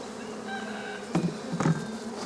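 Bees in a hive near a nucleus colony box and its empty frames, a steady close buzz swelling in two brief louder surges, with no voices.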